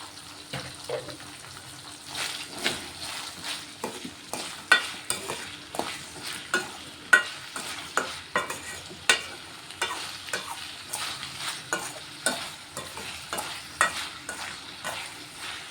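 Ivy gourd curry frying in a pan while being stirred, with a soft sizzle beneath repeated scraping and clinking strokes of a spoon at an irregular, fairly quick rhythm.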